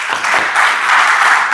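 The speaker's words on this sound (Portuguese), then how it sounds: "Aplauda o Senhor." A church congregation applauding together during a worship service, a steady dense wash of clapping held at an even, loud level from start to finish with no voices standing out.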